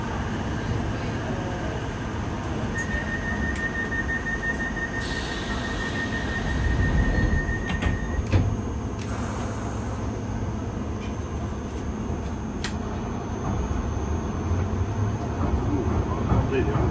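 A London Underground Piccadilly line train running through tunnels gives a constant loud rumble with rattling carriages and brief high-pitched wheel squeal, while a recorded announcement plays over it.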